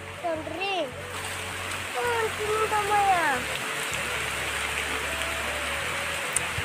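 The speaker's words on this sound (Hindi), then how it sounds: "कितना तेज़ से बारिश हो रहा है और यहाँ से पूरा नदी भी दिख रहा है" Heavy rain pours near a river by a bridge with a constant broad hiss of falling water. Voices talk over it, sounding close.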